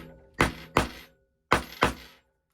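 Four sharp metallic taps of a hammer on clear vinyl bag-making work, struck in two pairs with a short pause between, close and loud in an otherwise quiet room.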